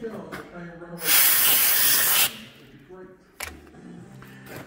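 Air blower blasting onto a metal part for a custom Triumph chopper triple tree yoke: a sharp hiss of about a second, loud and close, with clicks and workshop handling before and after.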